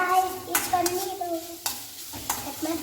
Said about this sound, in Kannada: ಸೊ ಇದು ಸ್ವಲ್ಪ ಪನ್ನೀರ್ ಚೆನ್ನಾಗಿ ಫ್ರೈ ಆಗಲಿ